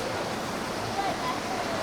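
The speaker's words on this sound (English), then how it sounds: "There's a waterfall here," A waterfall on the Crocodile River near its source in Gauteng, South Africa, roars in a steady, dense broadband rush with no breaks, close and fairly loud.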